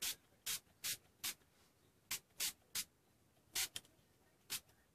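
Short bursts of aerosol spray paint hissing onto paper pocket folders, about a dozen quick sprays in an irregular rhythm, fairly faint with quiet gaps between.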